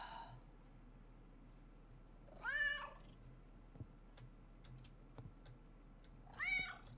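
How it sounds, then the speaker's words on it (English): House cat in a quiet room letting out two distinct drawn-out meows a few seconds apart, with faint clicks and taps in between. "Oh, shush, cat."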